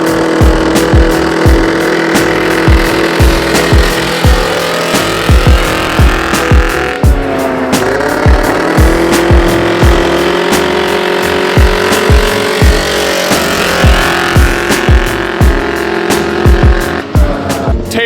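A 140hp Yamaha Banshee drag quad roars loud and close on a drag strip, its engine held at a steady high buzzing rev throughout with a brief dip midway, no voices over it.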